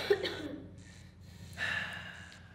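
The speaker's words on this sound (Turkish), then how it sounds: "Bak nasıl öksürüyor." A person coughs and wheezes in a few rough bursts, with harsh breathy gasps close by and no talking.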